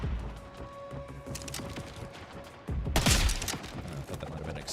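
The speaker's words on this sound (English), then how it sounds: "I thought that might have been an exploding barrel." Exploding barrel in Borderlands 4, a sudden loud crashing burst that cuts in after quieter gameplay clatter and rings out with splintering debris for a second or two.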